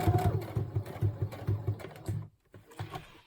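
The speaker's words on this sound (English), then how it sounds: "So now we're going to stitch around the messy squares" A sewing machine back-stitches and then runs on around fabric squares for handmade tags, giving a close, steady rapid whirring chatter that breaks off briefly near the end before starting up again.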